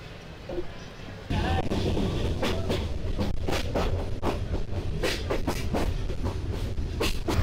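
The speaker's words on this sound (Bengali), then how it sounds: "এখন শ্রীমঙ্গল ছেড়ে ট্রেন যাচ্ছে সিলেটের উদ্দেশ্যে" The Jayantika Express train running from Sreemangal toward Sylhet, heard from inside as a steady loud rumble with repeated clickety-clack wheel beats over the rail joints; muffled voices sit faintly beneath.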